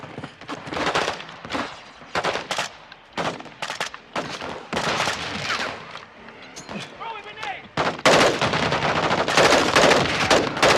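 Call of Duty Modern Warfare 2 gameplay with dense automatic rifle bursts and booming explosions in rapid sequence, loud throughout, mixed with in-game voices shouting.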